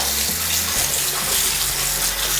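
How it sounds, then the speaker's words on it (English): Cut potatoes being rinsed under a running kitchen tap, a steady close rush and splash of water falling into the sink that continues unbroken throughout. "we're going to rinse the potatoes."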